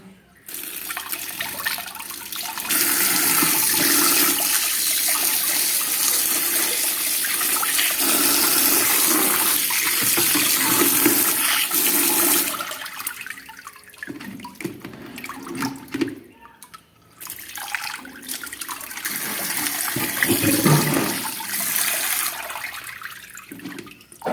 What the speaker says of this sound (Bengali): বলি একটু জল দিয়ে ধুয়ে দিই